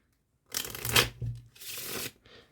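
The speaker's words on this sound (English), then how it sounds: "So now, again, while we shuffle the cards" Playing cards are shuffled in two quick riffling bursts, close and crisp, followed by a soft short rustle.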